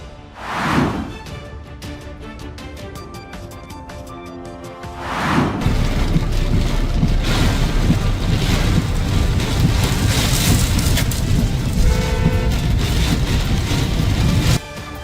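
A storm brings strong wind and heavy rain in a steady, loud roar of downpour, with a brief gust early on and a denser wash of rain building from a few seconds in and holding to the end.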